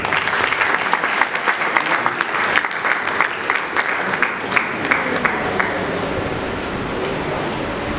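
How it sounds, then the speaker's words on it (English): A conference audience applauds loudly and steadily, dense clapping filling the room for several seconds before easing slightly toward the end. "I request that we give the University of Ibadan a resounding applause"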